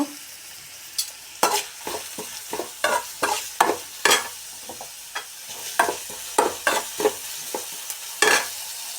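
Grated beetroot and coconut mixture frying in a pan, with a spatula scraping and stirring in short repeated strokes over a soft sizzle, close and clear with no speech.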